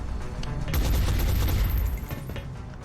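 A soldier's weapon fires in the video game XCOM, a dense burst of rapid gunfire with a heavy low thump lasting over a second, followed by a few scattered sharper cracks as it trails off.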